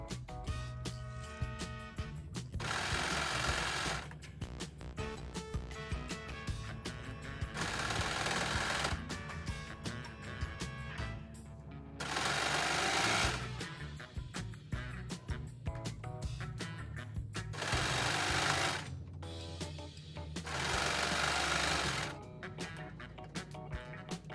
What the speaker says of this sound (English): Now I'm ready to stitch.